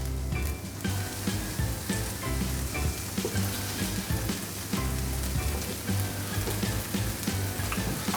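Chicken tikka pieces sizzle on a Breville grill, a steady, dense crackle and hiss with fine popping that runs unbroken throughout, no voices.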